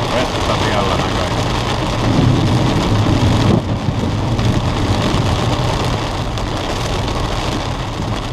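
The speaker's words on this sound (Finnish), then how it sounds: "nyt sataa vettä" Rain falls steadily outdoors during a pike-fishing outing in Finland, a broad loud hiss with heavier patter and low rumbling for the first few seconds before easing slightly.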